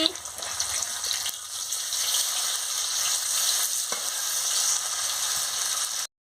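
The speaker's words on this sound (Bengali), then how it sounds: "ভাজা হয়ে গেছে, দিকটা হয়ে গেছে, আর এক দিকটা উল্টে নিচ্ছি।" Paneer pieces fry in hot oil in a pan as they are turned over, a steady close sizzle with a small stirring clatter running unbroken until the sound cuts off at the end.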